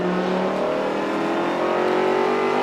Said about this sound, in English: One of the Mini Muscle Cars, I think, just racing alongside some other miniature race cars.